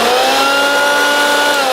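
Hoover Quik Broom Encore S2551 two-speed stick vacuum running on its low setting, a steady loud motor whine with bright tonal hum, continuous and close with no talk.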